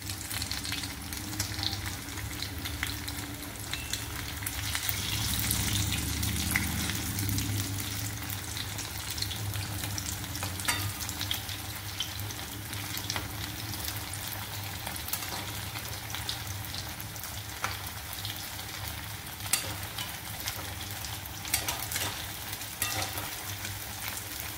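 Sabudana vadas fry in hot oil as they are gently turned, a steady close crackling sizzle throughout with a slightly louder bubbling surge early on and scattered small pops.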